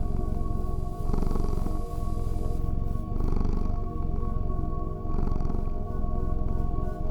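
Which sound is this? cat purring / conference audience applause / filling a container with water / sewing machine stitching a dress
cat purring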